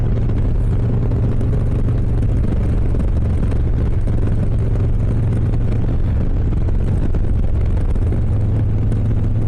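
A 2023 Harley-Davidson Low Rider S motorcycle riding along scenic Washington roads, a loud, steady engine drone with heavy wind rush over the microphone, constant throughout with no breaks.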